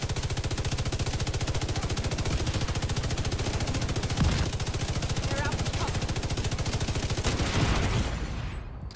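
Rapid automatic gunfire in a military video game plays as a continuous, loud, evenly spaced rattle for several seconds, with a few heavier impacts and faint radio-style voices underneath.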